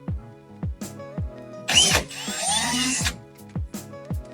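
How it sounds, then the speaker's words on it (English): Cordless power drill boring a hole on a first-generation Toyota Tacoma during a straight axle swap, a loud burst of grinding whir lasting over a second, set among sharp periodic clanks and knocks before and after. "Let's drill this hole."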